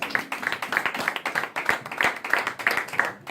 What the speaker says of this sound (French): On peut acclamer pour la parole.